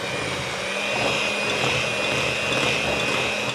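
An electric mixer beats snickerdoodle cookie dough in a bowl, giving a steady, loud motor whir with a faint high whine and slight churning swells. It runs without talk and cuts off abruptly.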